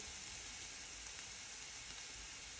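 Chicken with paprika frying in a pan, giving a steady, even sizzle that stays at a low, constant level for the whole stretch with no breaks.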